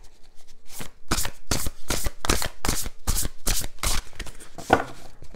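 Oracle cards are shuffled and handled in a run of about ten crisp, rhythmic riffling bursts, close and clear, with no talking.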